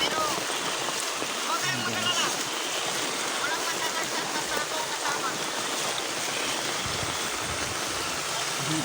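Rainwater rushes through a roadside canal during rain, a steady broadband wash of flowing water that fills the whole clip with no breaks.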